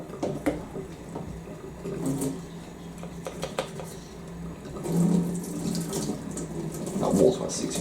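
Hot water runs from a tap during washing, a steady close splash that swells louder at moments, with occasional clinks of dishes and handling noise.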